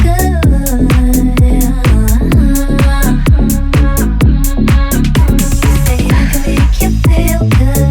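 An 8-bar electronic music loop built in Ableton plays loud and close, with a punchy repeating drum beat, deep bass, a vocal line and sound effects cycling steadily throughout.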